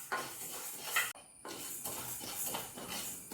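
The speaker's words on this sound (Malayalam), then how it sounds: "കൈവിടാതെ ഇളക്കി കൊടുക്കണം, അല്ലെങ്കിൽ ഇത് കല്ലച്ചു പോകും." Toor dal and urad dal dry-roasting in a pan while a spoon keeps stirring: a close, soft scraping and clinking of utensil against metal in uneven strokes, with no speech.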